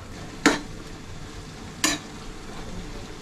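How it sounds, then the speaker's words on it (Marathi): Vegetables stir-fried in a pan over a high flame, heard as two distinct scraping stirs against a soft background hiss. "आता हे आपल्याला फास्ट गॅसवर आपल्याला सर्व मिक्स करून फ्राय करून घ्यायचं आहे"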